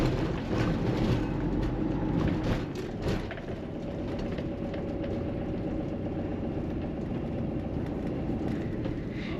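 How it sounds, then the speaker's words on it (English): A camper van rumbles along with a few heavy clunks and bumps early on as it crosses railway tracks near Dingwall, then settles into a steady, muffled road drone. "Going over the railway tracks."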